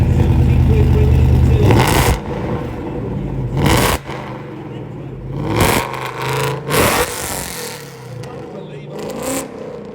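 An 860-horsepower car at an indoor motor show pulls away with bursts of loud revving separated by quieter idling gaps, while people talk over it.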